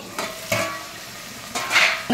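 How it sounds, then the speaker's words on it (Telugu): Vegetables fry in a pan for drumstick sambar, a close, steady sizzle with a few louder scraping stirs of a spoon. "కూరగాయలు ఇలా వేగుతున్నప్పుడు"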